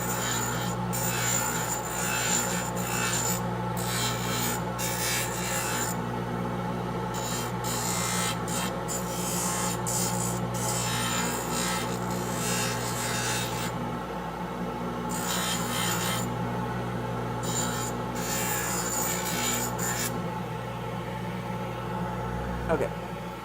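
A rotary tool trims an acrylic Hawley retainer, a steady high whine with continuous grinding and rasping against the plastic, broken by brief pauses, while a person talks over it.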